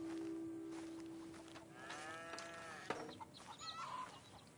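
Cattle in the Red Dead Redemption 2 ranch game world low a few times at moderate distance, with a drawn-out moo that bends in pitch and a sharper call near the end over a steady outdoor hum.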